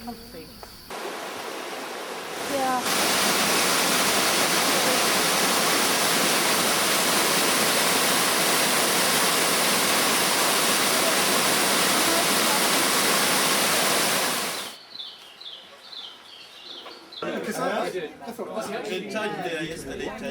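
Waterfall in Bwindi Impenetrable National Park, Uganda, a loud broad rushing roar that fades in after a few seconds, holds steady, then cuts off, with quieter outdoor sounds before and after.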